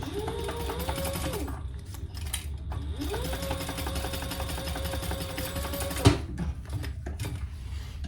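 A domestic sewing machine bastes fabric pieces for a zippered clutch bag in short bursts of rapid stitching, with pauses and small handling knocks between runs.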